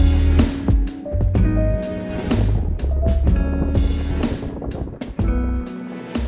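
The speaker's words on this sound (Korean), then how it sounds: "바람이 시원하게 불고 서늘합니다." Wind gusting at Mancheonha Skywalk in Danyang, a high glass-floored lookout above the Namhan River, rumbling hard and continuously against the microphone in loud, buffeting waves with faint tones and clatter underneath, no voices.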